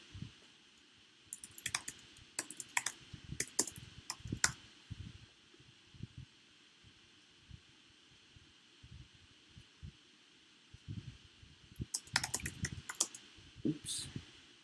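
Computer keyboard typing while code is written, clear close key clicks in irregular bursts with a pause in the middle, over a steady low hum.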